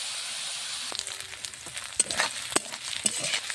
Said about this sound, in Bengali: তেলটা খুব সুন্দর গরম হয়েছে, টকবক করে ফুটছে।